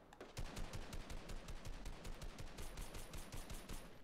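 Rapid automatic gunfire from Fortnite, a fast, even stream of close, sharp shots running throughout without pause and no voices over it.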